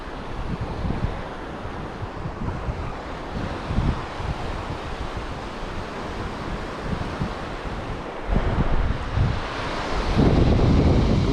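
Wind blowing over the sea at a reef during a lure-fishing outing, a constant roar of buffeting microphone wind with rushing water that surges louder toward the end.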